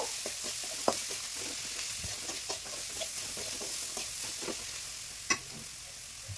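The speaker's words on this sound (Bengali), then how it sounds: "সমস্ত মশলা এবার বেশ খানিকক্ষণ নাড়াচাড়া করে নেব" Ground chilli, cumin and coriander powder fry in a pan under a quiet, steady sizzle while a spoon scrapes and taps in short repeated strokes.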